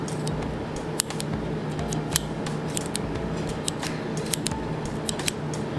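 Close-up mechanical clicking of a machined EDC bolt-action pen being worked, sharp metallic clicks at irregular intervals over a steady low background hum, with no voices.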